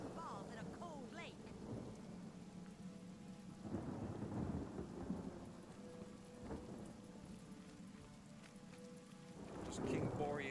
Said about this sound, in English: Let's make it rain indoors, which makes even less sense.